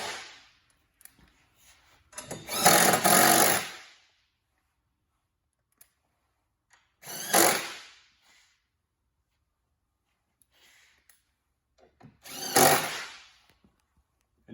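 Power drill driving new screws through a four-hole metal hit plate on a seed box corner, three separate whirring bursts of a second or two each, close and moderately loud with quiet gaps.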